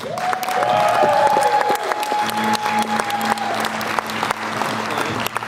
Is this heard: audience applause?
yes